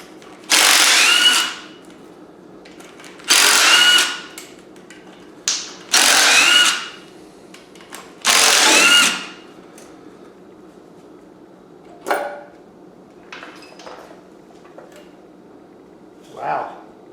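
Cordless power tool spinning out 8mm valve cover bolts on an LS V8 engine, several short whirring bursts of about a second each with pauses between, close up, followed by quieter clicks and ratcheting.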